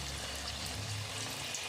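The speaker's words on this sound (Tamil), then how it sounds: "இப்போ நம்ம ஆயிலில் போடுறோம்." Chicken bread toast pieces frying in hot oil, a steady close crackling sizzle that holds evenly throughout with no talk.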